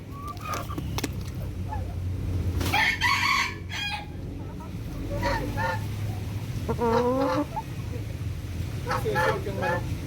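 Chickens cluck and squawk nearby while a rooster crows in repeated bursts, with people talking intermittently underneath.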